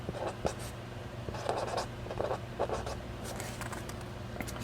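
A Pica fine-tip marker writes on a surface in short, close scratchy strokes, several bursts of scraping separated by brief pauses over a low background hum.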